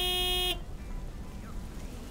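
A truck horn from the video game Lake honks once, loud and close, a sustained multi-toned blast lasting about half a second before cutting off to quiet background.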